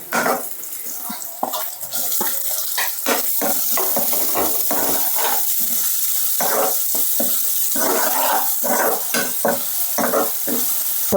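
Tomatoes frying in a hot pan for a chicken gojju, with a loud continuous sizzle broken by repeated stirring scrapes and bursts, close up and without talk.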